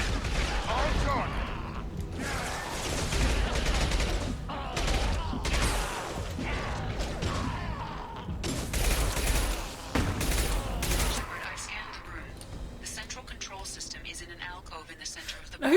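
Gunfire in a Mass Effect 2 firefight, bursts of shots and mechanical clatter running steadily with a speaking voice, easing off toward the end.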